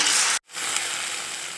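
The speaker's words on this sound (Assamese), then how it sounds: "এতিয়া মই লৰাই দিম" Jackfruit curry sizzling steadily in a frying pan while being stirred, a loud continuous hiss with one brief break near the start.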